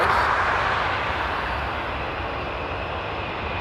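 A jet airliner at Frankfurt Airport during winter de-icing produces a steady, loud engine roar that slowly eases, with no voices over it.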